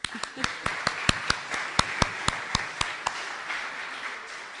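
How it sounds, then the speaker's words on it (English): An audience at a 2022 high school graduation ceremony claps in a sparse, uneven round of applause, with sharp individual claps standing out over a quieter patter that fades after a few seconds. "That gets a round of applause."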